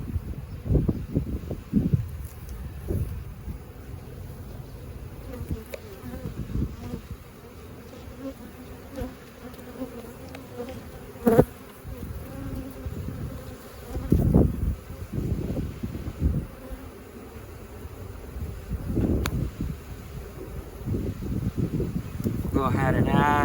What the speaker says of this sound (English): I've got a good amount of bees in here.